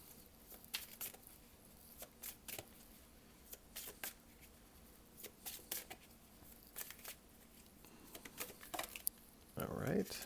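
Tarot cards shuffled and handled at close range, producing soft irregular riffling pats and flicks, with a louder rustle near the end, all quiet and intermittent.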